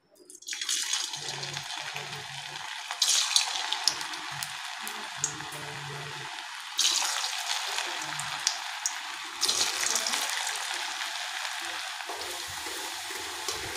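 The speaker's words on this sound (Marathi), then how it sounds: "आता आपण त्यांना गरम तेलामध्ये छान तळून घेऊया।" Potato finger chips frying in hot oil: a steady, crackling sizzle, close and continuous, swelling in a few louder bursts.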